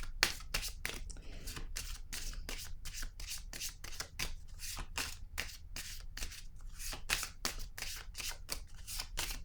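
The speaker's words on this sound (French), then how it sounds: "Je vais piger une autre carte ici." Tarot cards are shuffled and drawn by hand in a steady run of quick riffling flicks and soft slaps, close and fairly quiet, with no talk over them.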